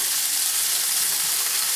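Smash burger beef patties sizzle steadily in hot fat as they are flipped, a continuous bright hiss and crackle heard up close without talk.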